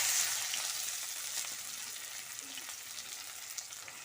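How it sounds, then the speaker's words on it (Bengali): Chopped onion fries in oil in a kadai wok for a raw jackfruit curry, a steady close sizzle that fades slightly as it settles, with faint stirring and no talking. "পেঁয়াজটাকে লাল করে ভাজবো"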